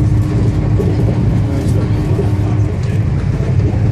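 A steady low rumble and rattle fill the space inside a moving train carriage in India, with a voice faintly underneath.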